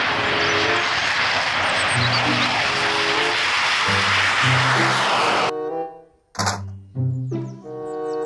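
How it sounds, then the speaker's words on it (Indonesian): A toy fighter jet roars steadily and loudly over a rhythmic musical backing, then drops away, leaving short bursts of music and a brief whoosh. "Pesawat jet tempur."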